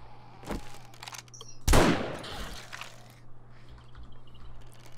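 Shotgun blast in the survival video game 7 Days To Die, one loud close boom with a fading tail, a lighter thud just before, over a low steady game hum.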